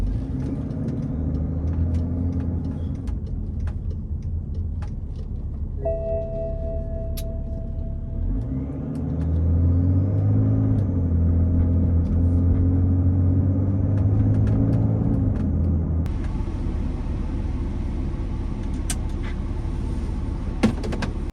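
A BMW X5 with an M57 turbo diesel engine limps along with a loose boost tube, a low steady engine rumble and drone with a brief whine, heard from inside the cabin.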